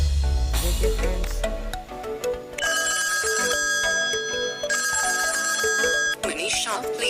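A phone ringtone plays two loud trilling telephone rings, then a tone with a spoken name, all ringing out clearly over background music.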